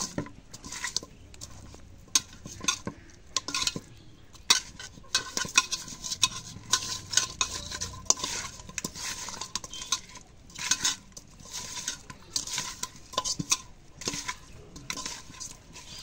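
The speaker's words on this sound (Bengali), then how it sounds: "এখন মাছটা মাখানো শেষ" Raw fish being hand-mixed with salt and dry spices, a soft wet squelching and patting with scattered light clinks against the bowl, steady and close for the whole stretch.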